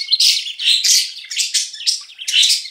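A pet bird calls in a series of about six bright, high chirps in quick bursts, close and clear against silence, with no voices.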